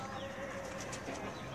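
Racing pigeons inside a cage, a steady dense wash of cooing and rustling wings, close and continuous, with faint voices mixed in the background.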